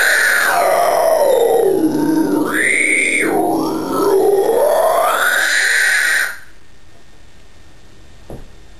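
A single human voice performs an inward scream in a pig-squeal style, loud and close, sweeping up and down in pitch for about six seconds before cutting off into near silence.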